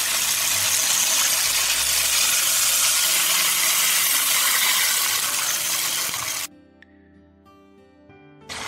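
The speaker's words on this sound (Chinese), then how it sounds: "加入清水" Clean water pours steadily into a wok of edamame in a home kitchen, a loud, continuous gushing rush that stops abruptly after about six seconds and leaves near silence with faint clinks.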